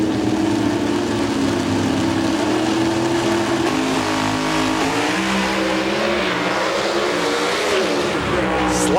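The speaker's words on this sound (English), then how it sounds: "Here's the AC Delco Chevrolet car." Pro stock drag race cars, including an AC Delco Chevrolet, launching down the strip at a 1998 NHRA event in Houston, with a loud sustained engine roar that climbs through gear changes across the whole stretch.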